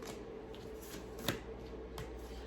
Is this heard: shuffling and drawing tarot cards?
yes